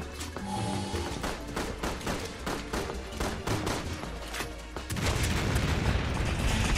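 Combat in the video game Resident Evil 6, with rapid bursts of gunfire crackling continuously and heavy booming grenade explosions, the final seconds turning into a denser, louder roar of blasts.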